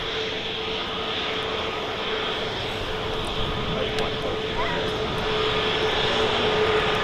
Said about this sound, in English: EasyJet A320 Neo from Gibraltar, featuring the Neo decal